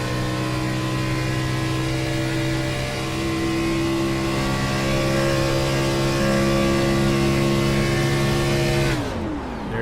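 Onboard sound of an IROC race car at Kansas, the engine droning loud and steady at high revs with a sustained tonal whine, then dropping away sharply as the car lifts off at the end.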